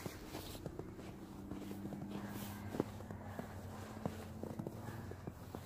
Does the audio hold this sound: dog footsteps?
yes